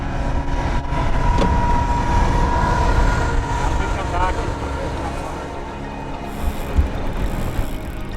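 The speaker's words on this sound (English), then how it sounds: "an actual freight train blasts past us on the riverside" A freight train rumbles past nearby on a riverside track with a steady, loud roar and rattling wagons, a faint horn tone running through it.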